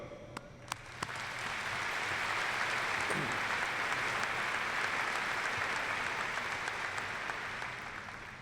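A college commencement audience gives the faculty and staff a long, even round of applause, a dense and steady wash of clapping from a large crowd heard at a slight distance.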